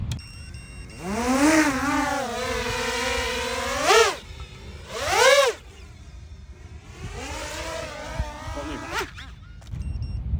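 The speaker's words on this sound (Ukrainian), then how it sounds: "Перший тестовий політ на нових моторах." An FPV drone on new motors makes a test flight, its high whining motor pitch repeatedly rising and falling in loud surges and swoops as the throttle changes, close by, before cutting out near the end.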